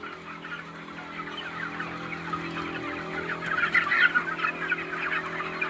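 Broiler chickens about sixteen days old, over a kilogram each, crowd a poultry farm shed and cluck continuously as a dense flock, and the chatter swells louder toward the end.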